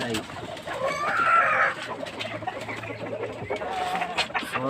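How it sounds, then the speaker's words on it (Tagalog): Domestic ducks kept as farm animals at morning feeding time, a steady chorus of quacking and clucking fowl calls close by, with a person talking over the birds. "Ito yung ating mga itik"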